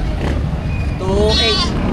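Several goats bleat in short wavering calls amid a busy livestock market, with people talking close by over steady crowd noise.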